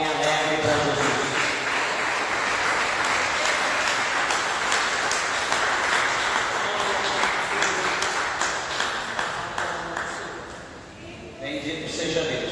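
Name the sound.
congregation applauding for Jesus in church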